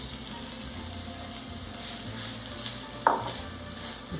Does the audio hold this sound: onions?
yes